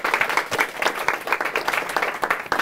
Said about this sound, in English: Actually, a huge round of applause to them first.